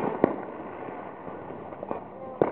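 Backyard fireworks bang and pop at a distance, a few sharp reports over a few seconds, with a dog nearby and faint talking in the background.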